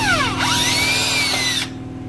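A power drill bites into a carbon mountain bike frame on an Ibis Mojo HD3, a loud close whine rising and sweeping in pitch before cutting off abruptly, leaving a low hum.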